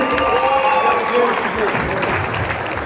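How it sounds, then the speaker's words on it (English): Crowd applause for the winner of a women's MMA cage fight, steady clapping with voices and a few shouts mixed in. "Let's do a put your hands together for your winner, please"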